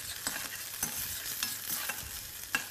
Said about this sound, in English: we don't want the garlic to burn, so constantly stirring